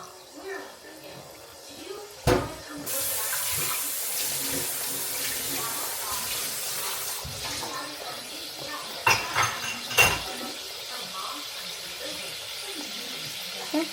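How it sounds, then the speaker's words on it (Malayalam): Water pours and splashes as a glass is rinsed, a continuous running flow with a few clinks of glass and vessel, while a voice talks faintly in the background. "ഗ്ലാസ് ഒന്നുകൂടി ഒന്ന് വാഷ് ചെയ്ത് ജസ്റ്റ് ആ വെള്ളം കൂടി ഒഴിക്കുന്നുണ്ട്"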